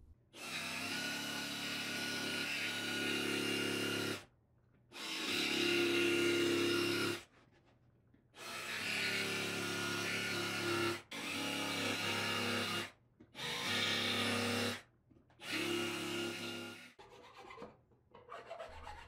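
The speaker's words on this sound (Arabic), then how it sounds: "وهستعمل بقى الاركت نفسه مع سلاح قص نضيف نفرغ الشغل كله" A jigsaw fitted with a clean-cutting blade saws out the pieces of a wooden board for a homemade puzzle, running in loud rasping bursts of a few seconds each, separated by short pauses.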